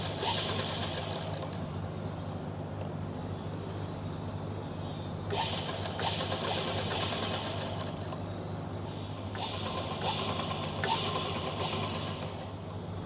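A sewing machine runs steadily while stitching fabric for a top, its even whirring and ticking continuous throughout at moderate loudness, with no talk.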